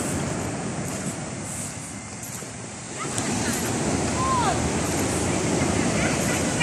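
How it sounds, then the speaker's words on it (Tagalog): Strong sea waves at Pagudpud roll and crash in a continuous wash of surf, with gusts of wind buffeting the microphone and building louder in the second half. "malakas pa rin yung alon guys."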